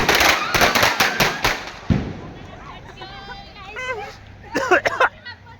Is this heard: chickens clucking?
no